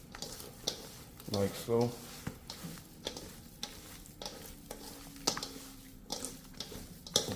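Beef tips sizzle steadily in a hot pan while a utensil stirs and scrapes them in short bursts, with a person talking over the cooking.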